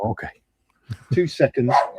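A pet dog barks sharply nearby, a couple of loud yips at the start, then a pause and a run of louder barks and whimpering yelps as someone talks during a live online model-building session.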